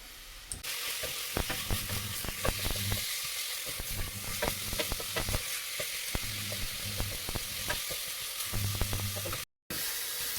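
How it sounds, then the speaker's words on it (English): Minced meat dry fries in a hot pan with no added fat, giving a steady, close sizzle for about ten seconds, broken by stirring scrapes and one brief dropout near the end. "put your mince in, and then you need to turn up the heat so you can dry fry it"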